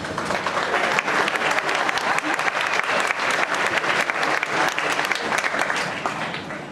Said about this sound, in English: Friendly ripple of applause from one side here